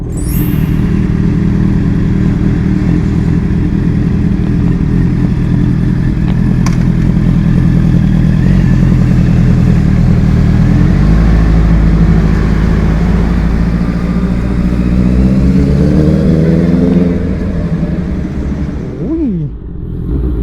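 A 2021 Honda CBR650R with a titanium exhaust revs loudly and steadily with a deep, throaty note, the pitch climbing and falling near the end as the throttle is blipped.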